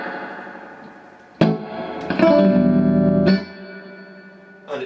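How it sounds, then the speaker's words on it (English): Guitar notes struck through a Romany TR20 amplifier with a splashy, metallic Accutronics spring reverb ringing out after each hit. "so a splash of reverb at about number 2"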